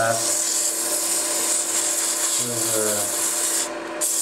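A wooden cigar ashtray being sanded on a lathe at reduced speed: a steady, loud, continuous abrasive rub up close, with a slight shift in tone near the end and no one talking.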